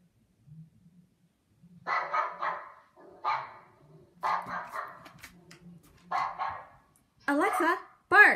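An Alexa smart speaker plays dog barks several times in short, spaced bursts, clear and close, ending with a couple of higher yipping barks; a quiet voice murmurs beforehand.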